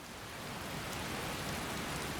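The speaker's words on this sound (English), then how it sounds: "It's not stopped raining," Steady rain falling in the Skyrim video game, a dense, even wash of drops that holds constant throughout with no voices.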